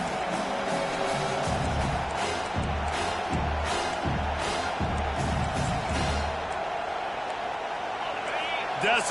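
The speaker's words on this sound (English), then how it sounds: "Decibels rising as the crowd gets behind this defense on third down." A football stadium crowd roars for the defense on third down, a loud, sustained wash of cheering with rhythmic thumps and claps running throughout at close, steady intensity.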